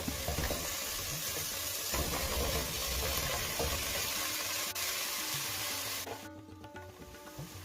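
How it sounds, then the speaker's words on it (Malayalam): Chopped ash gourd pieces go into a hot pan for a Malabar curry and get stirred, giving a steady sizzle with scraping and stirring noises that drop off sharply near the end. "അരിഞ്ഞ് വെച്ചിട്ടുള്ള കുമ്പളങ്ങ കഷ്ണങ്ങൾ മൊത്തമായിട്ട് ഇതിലേക്ക് ഇട്ട് കൊടുക്കാം"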